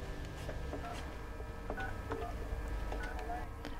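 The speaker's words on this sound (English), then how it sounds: "I can't wait to get on the phone and tell Katie the good news." Telephone keypad tones sound as a veterinarian at an animal emergency clinic dials a call, a series of short separate beeps spaced unevenly over a steady low background hum.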